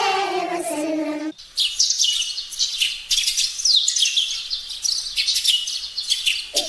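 A small bird chirps in quick, bright bursts, repeated tweets close and fairly loud, following a brief sung vocal phrase at the start.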